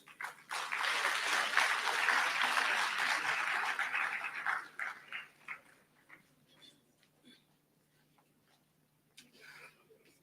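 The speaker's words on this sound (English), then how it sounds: "So a round of applause to Prof." An audience at a National Science Week launch claps in a dense burst of applause that swells for several seconds, then thins into scattered claps and fades to near quiet.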